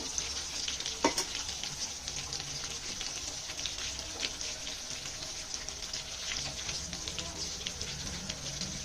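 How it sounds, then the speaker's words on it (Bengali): Rohu fish fry lightly in hot oil in a wok, a constant close crackling sizzle with one sharp knock near the start and faint spattering throughout. "তো মাছগুলো আমি বেশি কড়া করে ভাজবো না, হালকা ভেজেই তুলে নেব।"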